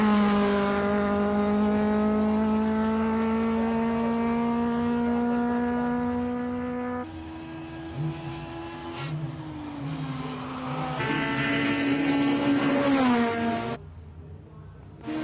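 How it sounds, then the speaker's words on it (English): A Cosworth-powered March 79B race car climbs the Simola hillclimb course, its high engine note rising steadily through several gear changes as it passes and fades into the distance. "Charles Arton heading up in his March 79B Cosworth powered March"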